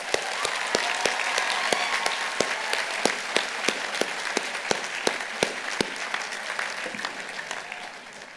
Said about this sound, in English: give a warm round of applause to everyone that helped bring our